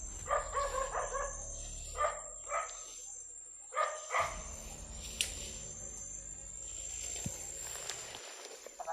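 A dog barks a few times in a video game, short sharp yelps early on over a steady insect-like hum of game ambience.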